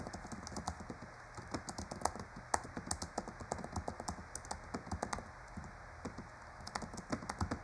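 Quick, irregular clicking of keys on a computer keyboard during novel writing, close and fairly quiet, with brief pauses between bursts; no talking.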